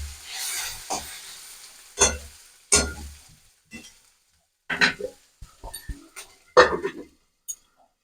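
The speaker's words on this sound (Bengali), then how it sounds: "আলু পেঁয়াজটাকে ভালো করে ভেজে নেবো ঢাকা দিয়ে" Potatoes and onions fry in a pan, with scattered scraping and stirring strokes breaking out in short, irregular bursts above a faint sizzle and quiet gaps between them.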